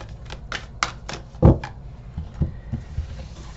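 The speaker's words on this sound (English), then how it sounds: "Let me just give a quick shuffle here." A deck of cards is shuffled by hand, a quick run of crisp riffling clicks and soft slaps, close by and without talking.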